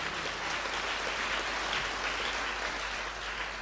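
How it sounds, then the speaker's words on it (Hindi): A congregation at a Christian worship and healing prayer service applauds together, a dense, steady wash of clapping from many hands that fills the room evenly with no one speaking. "ताली बजाएंगे प्रभु के"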